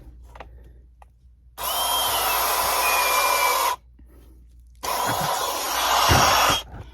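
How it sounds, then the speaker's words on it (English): A Ryobi automatic PEX crimp ring crimper runs in two sustained motor bursts, each about two seconds of whirring, close and loud with short pauses between. "nobody else makes a PEX crimp ring automatic crimper that I can find"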